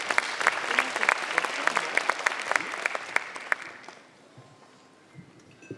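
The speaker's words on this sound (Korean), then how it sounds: "큰 박수로 환영해 주시면 감사하겠습니다" Audience applause at a university graduation ceremony in Korea, brisk crowd clapping for a few seconds that fades out, leaving a quiet hall with faint noises.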